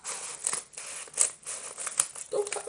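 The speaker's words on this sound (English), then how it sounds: "Scissors." Scissors snip open a package in a series of close, crisp cuts, each with a sharp metallic swish, mixed with light crinkling of packaging.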